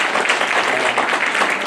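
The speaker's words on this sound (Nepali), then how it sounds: "सबैले ताली बजाइदिन्छु" Applause from a church audience at a Christmas celebration, a dense steady patter of many hands clapping together for under two seconds with no one talking over it.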